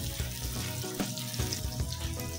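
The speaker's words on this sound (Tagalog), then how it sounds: "gigisahin natin siya sa luya, bawang, gisagisahin lang natin ito hanggang sa lumabas ang kanilang aroma" Ginger and garlic sautéing in a pan for a sardine dish, a steady close sizzle with faint clinks of stirring throughout, no voices.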